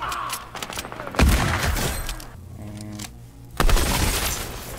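Gunfire in a Fortnite Arena solos match: two loud, close bursts of sharp shots, one near the start and one near the end, with busy game noise and crackle between them.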